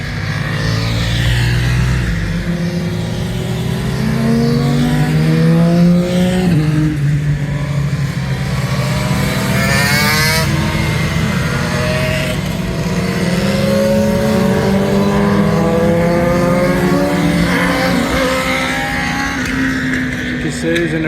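Two-stroke motorcycles, Suzuki RGV and Kawasaki KR-1S, race around Cadwell Park circuit, their engines screaming loud and continuous with repeated rising and falling revs as bikes pass and accelerate.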